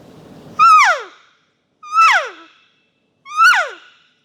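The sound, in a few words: adult cow elk call imitated with an elk call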